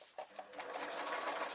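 A sewing machine stitches fabric for a zippered pencil case, giving a close, steady rapid whirring chatter after a couple of brief starts.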